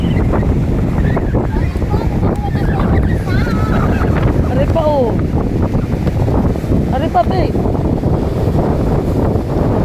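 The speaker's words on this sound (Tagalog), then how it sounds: "Yan, tingnan nyo po naman, lakas po ng alon." Strong sea waves roll in during stormy typhoon weather at a shoreline littered with plastic bottles, a continuous heavy roar with wind buffeting the microphone and a voice speaking briefly.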